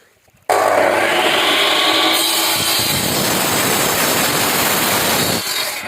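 A saw grinds steadily through a brick during masonry work, a loud continuous abrasive rasp that starts abruptly after a brief quiet moment.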